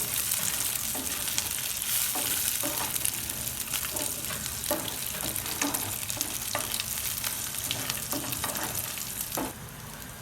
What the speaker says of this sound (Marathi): जिरे मोहरे चांगल्या परताल्यात आता हे थोडं मिक्स करून घ्यायचं सगळं